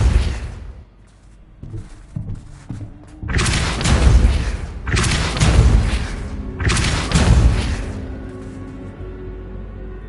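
Depulso force spell impact in a Harry Potter–style video game: several heavy, booming thuds in a cluster, loud and close, rumbling over a low background with no talk.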